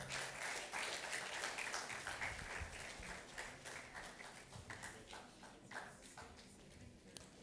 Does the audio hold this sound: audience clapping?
yes